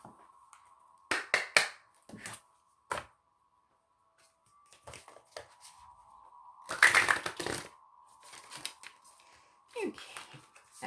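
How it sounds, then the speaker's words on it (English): Cards of a Shamanic Oracle deck being shuffled in quick riffling bursts, close and crisp, separated by quiet pauses, with a faint voice murmuring softly in the background. "Okay, that was a really good shuffle."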